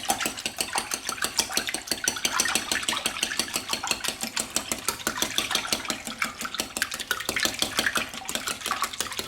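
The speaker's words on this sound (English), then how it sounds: "And then I just want to give these a good whisking." Pancake batter with vegetable oil whisked briskly in a bowl, a steady fast clatter of whisk strokes against the sides running throughout, close and fairly loud with no talking.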